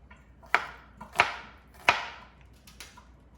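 Three sharp chops of a knife through garlic cloves on a cutting board, evenly spaced, then a few fainter taps; close and otherwise quiet.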